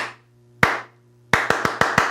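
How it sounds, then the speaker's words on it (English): Crisp close hand claps with a slight ringing decay in a quiet room: one clap, a pause, then five quick claps in a ti-ka-ti-ka style rhythm, over a faint low hum. "I'm going to clap it again and you clap it back"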